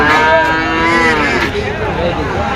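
A Shahiwal cow gives a loud, sustained moo close by at a busy cattle market, with crowd noise behind it.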